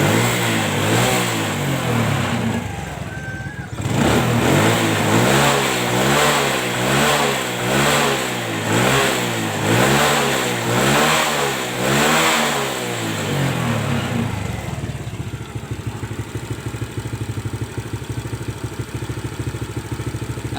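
A Honda Legenda motorcycle engine, which stutters and dies on initial throttle, revs repeatedly in steady rhythmic bursts, loud and close, then settles into a rough, lower idle toward the end.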